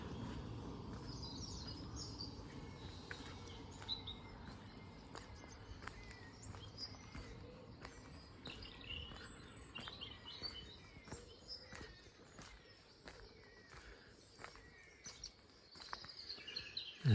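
Goldfinch chirping outdoors at Ventnor on the Isle of Wight, faint scattered tweets and short calls over a soft background hiss, with no talking.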